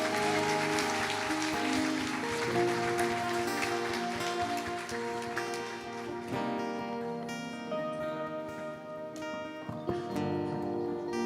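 Church congregation clapping in a broad, steady wash of applause that runs the full length, layered over sustained organ or keyboard chords and music in the worship hall.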